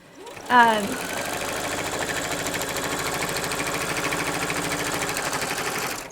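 A sewing machine runs fast and steady for about five seconds, stitching through a thick, bulky seam on a rag quilt, with a dense mechanical whir throughout.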